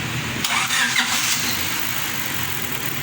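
A Honda CF car engine at a repair workshop cranks and catches, then settles into a loud, steady idle close by, with no voices.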